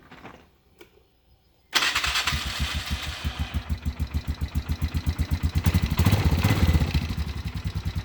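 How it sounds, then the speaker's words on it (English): A Polaris utility vehicle engine cranks over after a quiet moment and fires up, then settles into a loud, steady, throbbing idle as it warms up close by. "I'm going to go ahead and get it started up, let it warm up"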